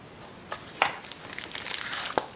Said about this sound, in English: I'm going to grab some stars. I'm gonna grab my star stickers.